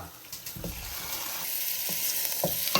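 Raw chicken sizzling loudly as it is stirred into biryani masala with green chillies for Thalappakatti-style chicken biryani, a steady hiss with soft scraping strokes of the spoon throughout.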